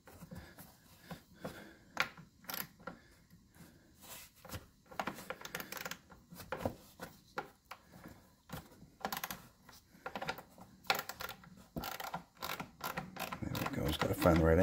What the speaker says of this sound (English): now loosen up the clamp that holds the battery in the battery box